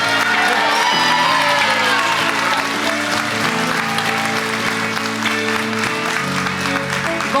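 Hearty applause for a concert band at an inclusion gala, with whoops and cheers rising from the crowd; the clapping stays loud and continuous throughout, with voices mixed in.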